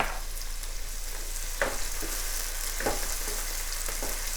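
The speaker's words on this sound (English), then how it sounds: "I'm adding tomatoes." Chopped tomatoes sizzle in a pan with onions and ginger for a bell pepper and potato curry, a steady loud frying hiss with a few brief stirring scrapes, close up and without talk.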